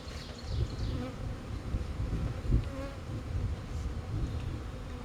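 Honey bees from a nucleus colony being installed into a hive, a dense continuous buzz of many insects swarming close around, steady and fairly loud with no talk.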